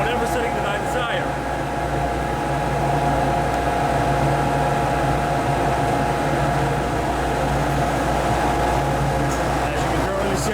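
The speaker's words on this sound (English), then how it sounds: "Now if I decided to go ahead and put the burner on manual, I can control the flame in whatever setting that I desire." A boiler burner on manual flame control roars steadily with a constant, loud mechanical hum and tonal drone that stays even throughout.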